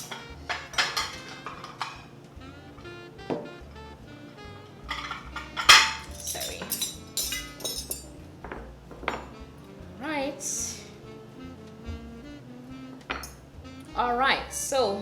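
Metal cutlery and flatware clink and scrape against dishes in scattered bright pings and clatters, close by and fairly loud, with some talk in between.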